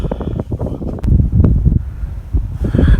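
Strong gusts buffet the microphone in a steady low roar, surging louder at moments, with outdoor rustling and no voices, in a potato field at harvest in Wielkopolska, Poland.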